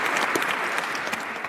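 Audience in Oslo applauding steadily, a dense, even wash of clapping that holds at a fairly loud level throughout.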